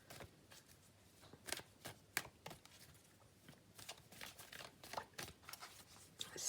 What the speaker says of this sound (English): I'm just going to have a little shuffle of Brian's deck